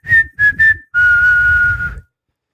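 PC Richard and Son sonic branding jingle, a loud, close whistle of three short notes followed by one long held note, alone and clear.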